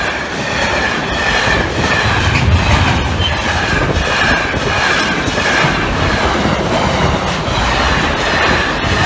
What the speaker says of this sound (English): our next train, the delayed 11:29